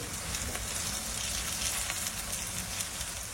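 Flatbread frying in a generous amount of oil in a pan, a soft, even crackling sizzle throughout, fairly quiet and without talk.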